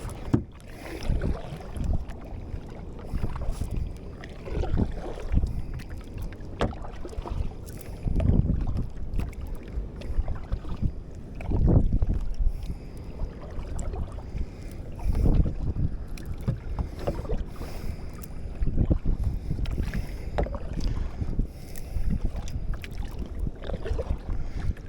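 A Jackson Big Rig fishing kayak paddled across open water, with steady splashing strokes and water sloshing against the hull, heard up close under constant wind buffeting the microphone.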